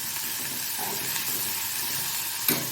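Mushrooms and capsicum sauté in a pan with a soft, steady sizzling hiss, ending in a short scrape or clatter near the close.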